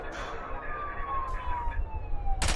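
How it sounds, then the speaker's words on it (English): A siren wails with a slowly falling pitch, distant and steady, over low traffic rumble, ending with a sudden burst of noise. "Oh, now there's sirens?"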